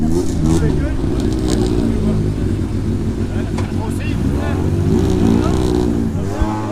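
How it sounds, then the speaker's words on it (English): Renault Twingo race car at a French hillclimb event, its engine a loud steady drone with rising revs close by, with people talking over it throughout. "best sounding Twingo ever."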